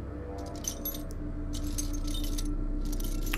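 Keys jangle in bursts in the PlayStation VR game Transference, three clusters of close metallic clinking separated by short pauses over a low steady hum.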